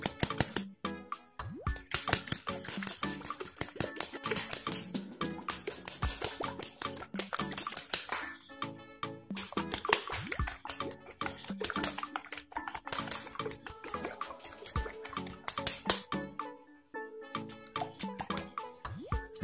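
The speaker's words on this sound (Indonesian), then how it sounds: "Sekarang kita kocok obatnya biar bercampur rata dengan air." A medicine bottle filled with water to 60 ml is shaken hard to mix the medicine, giving a steady run of close, rapid sloshing and rattling bursts that lasts throughout with no talk.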